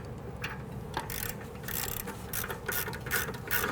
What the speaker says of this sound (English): take my ratchet and just run it in a few threads